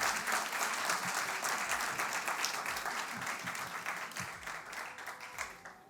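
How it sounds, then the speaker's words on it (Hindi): At a mushaira poetry gathering during Izhaar 2023 at IIT Bombay, an audience gives sustained, dense applause as poet Farhat Ehsas is welcomed onto the stage, a steady roar of many hands clapping. "इसी शेर के साथ ज़ोरदार तालियों से स्वागत कीजिए मंच पर फरहत"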